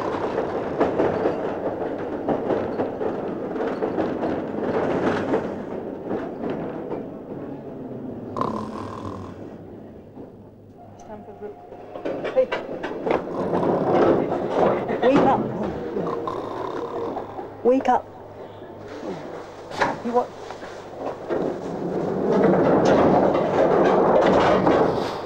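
A passenger train running on the rails toward Stamford Brook gives a continuous rumble with rhythmic clatter, swelling and easing over time, and a voice is heard now and then inside the carriage.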